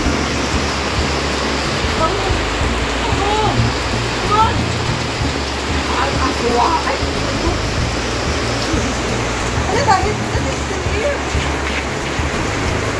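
Heavy rain pours in a dense, steady hiss, loud and close, with no letup across the whole stretch.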